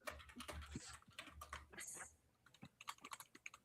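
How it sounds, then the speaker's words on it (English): Rapid computer-keyboard typing picked up faintly by someone's open microphone, a quick irregular patter of key clicks running through the whole stretch with no speech over it. "I hear typing in someone's mic."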